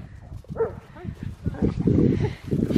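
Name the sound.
dog barking and whimpering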